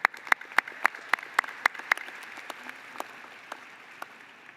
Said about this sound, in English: So a round of applause for those two.